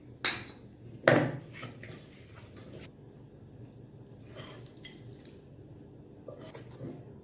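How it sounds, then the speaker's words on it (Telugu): Red chilli powder is stirred into mutton tomato gravy in a pan. Two distinct metallic clinks of a spoon against the pan come early, followed by softer wet scraping and quiet, moist stirring noises, close up with no voices. "ఈ మూడు మంచిగా కలిసిన తర్వాత రెడ్ చిల్లీ పౌడర్ని వేసి కలుపుకోవాలి."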